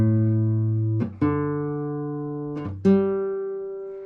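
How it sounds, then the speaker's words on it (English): Guitar strings plucked one at a time during a tuning check, four clear separate notes each ringing out and slowly decaying, close and alone with no talk. "let's listen to all the strings together in order one more time."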